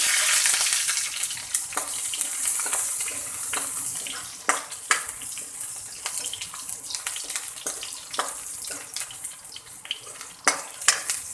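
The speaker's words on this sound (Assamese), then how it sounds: "সেইকাৰণে আধা ভাজি ল'ম।" Whole garlic cloves frying in hot oil in a wok during village-style cooking. A continuous hiss sounds up close, broken by several sharp crackles and pops, with stirring scrapes through the middle and no speech.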